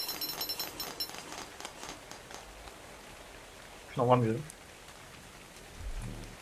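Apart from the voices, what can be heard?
rain falling in the video game ARK Survival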